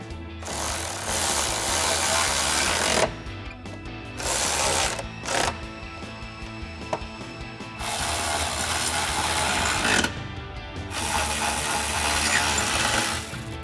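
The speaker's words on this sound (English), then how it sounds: "So we'll tighten those down using our 16mm socket." Rapid ratchet clicking from a 16mm socket tightening bracket bolts on a 2021-2024 Bronco drop step, in several bursts broken by brief pauses, close and clear with no talking.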